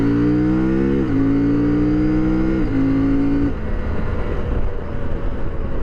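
A CFMOTO Ibex 800 T motorcycle with a 95-horsepower KTM 790 engine accelerates hard onto a freeway, its loud rising engine note climbing through three gear shifts before settling into a steady roar of wind and engine.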